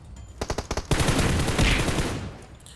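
Spray fire from an automatic rifle in the mobile battle royale game PUBG Mobile: a quick burst of separate shots, then a dense continuous stream of rapid gunfire with a rolling echo, loud and close.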